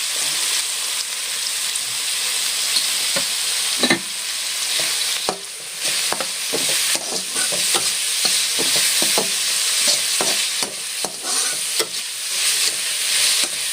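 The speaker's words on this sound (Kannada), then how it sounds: "ಇವಾಗ ಇದನ್ನು ಚೆನ್ನಾಗಿ ಫ್ರೈ ಮಾಡ್ಕೊತೀವಿ." Ingredients for gobi manchurian frying in a pan, a steady loud sizzle with crackles and intermittent scraping stirs throughout, no voices.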